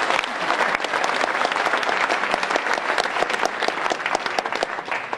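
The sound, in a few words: audience applauding at political rally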